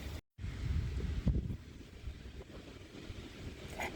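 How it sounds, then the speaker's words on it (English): Strong wind gusts buffet the microphone outdoors during painting, a steady low roaring rumble with a brief dropout near the start and no talking. "It's really super windy today"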